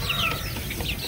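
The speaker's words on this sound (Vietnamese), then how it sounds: "Còn như cái đám này là gà con, cái này là mình cũng thả ra nè, nó chạy lang bang nha." Chickens and chicks on a farm cluck and peep in a brief, busy burst of overlapping calls, close and fairly loud against a noisy background.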